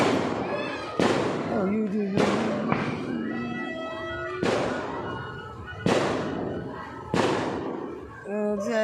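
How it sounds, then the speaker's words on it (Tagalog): Fireworks set off at a nearby mall boom in repeated sharp bursts about a second apart, loud and close, with people talking and reacting over them. "Meron po kasi fireworks dun mula sa Star Mall, yung mall na katabi namin."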